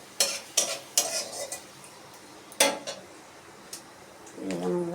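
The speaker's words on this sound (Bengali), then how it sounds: "আমি ওই কড়ার মধ্যেই ওই তেলের মধ্যেই দিয়ে দিলাম 5 ফোড়ন আর একটা শুকনো লঙ্কা।" Panch phoron and a dry chili dropped into hot oil in a wok: sharp metallic clinks and scrapes of a spatula against the pan, with a soft sizzle building beneath, close and moderately loud.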